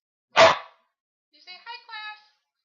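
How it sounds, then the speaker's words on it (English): A dog gives one sharp, close bark, followed after a pause by a few short higher yelps or whines. There is no talking. "hopefully that's enough barking from Charlie boy"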